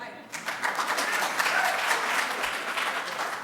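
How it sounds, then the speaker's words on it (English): Audience applause at a Compton mayoral forum, a crowd clapping steadily for a few seconds, moderately loud with a slightly distant, room-filled quality. "If we can hold down the applause."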